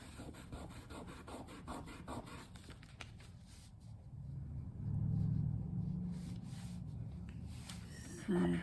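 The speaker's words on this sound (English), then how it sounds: "I'm just using a wet baby wipe. I'm trying to see where the tar gel is" Wet baby wipe rubbed over dried tar gel medium on sketchbook paper, a steady soft scrubbing rasp that runs throughout, close and fairly quiet, with a louder stretch midway.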